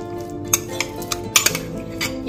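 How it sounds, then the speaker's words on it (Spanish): Pancake batter of oat flour, pumpkin puree and vanilla being whisked in a bowl, quick clinking taps and scraping against the sides, close and fairly loud. "Seguimos batiendo para que se incorpore bien."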